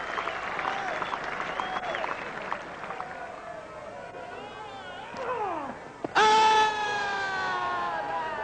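A cricket crowd at the 1997 England versus Australia fifth Test applauds in the background while a commentator talks, the clapping swelling into a louder, denser burst near the end.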